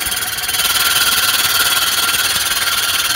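A reel mower being back lapped, its spinning blade reel running against the bed knife: a loud, steady high-pitched grinding whir with a fast rhythmic pulsing from the rotation, continuous and close.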